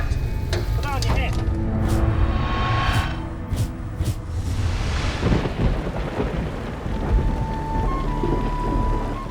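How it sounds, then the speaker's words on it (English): Hailstorm with thunder: heavy rumbling claps and dense pattering impacts fill the scene loudly, with voices mixed into the din. "The events at Coffeyville have been immortalized as the hailstorm of the century."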